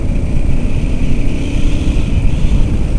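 Steady drone of a 650cc motorcycle engine riding through a corner in too high a gear, loud and continuous with wind rush and no talking.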